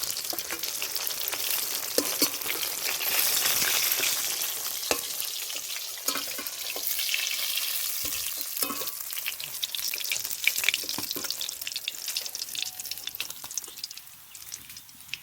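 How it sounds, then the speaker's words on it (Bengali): Rohu fish pieces frying in hot oil, a steady broad sizzle and crackle running throughout with occasional sharper pops and stirring clinks, fairly close and even in level. "মাছগুলো ভাজা হয়ে গেছে এখন তুলে নেব দেখুন বন্ধুরা একদম লাল লাল করে ভেজে নিয়েছি"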